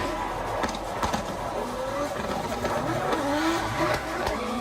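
A drift car running a practice lap on track, engine revving and rising in pitch with some tire noise, fairly loud and close.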